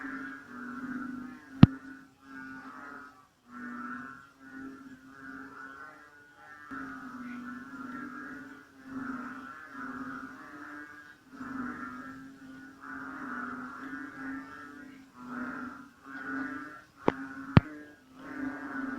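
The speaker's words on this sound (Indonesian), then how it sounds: "Ladies and gentlemen, this is the sound of the frogs of Borneo." Frogs calling in Kinarut, Borneo tropical rainforest: a steady chorus of repeated pulsing croaks in tight rhythmic bursts, moderately loud and continuous, with a couple of sharp clicks near the end.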